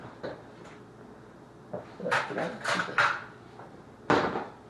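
A spoon being fetched from a kitchen drawer: a series of clattering wooden and metal knocks and rattles, an isolated thud then clustered clanks and a final sharp clatter, close by.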